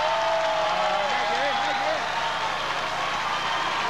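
A studio audience at a televised disco dance contest applauds a dance couple, sustained dense clapping and crowd noise heard throughout while a presenter speaks over it.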